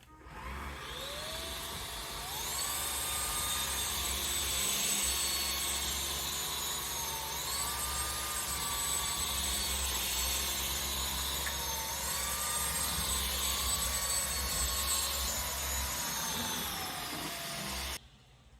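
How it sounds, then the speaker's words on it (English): INSE S9 cordless vacuum with V brush picking up dirt from a hard floor, a steady loud high-pitched motor whine with shifting tones as the head moves back and forth, cutting off near the end. "I'm going to be using the V brush to vacuum it up, and we'll see how this vacuum performs."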